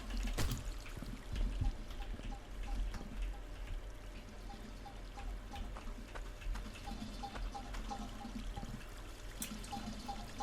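Continuous running water trickles and pours through a pipe in the mining game Hydroneer, a steady mid-level flow with faint repeating clicks and occasional clunks over it.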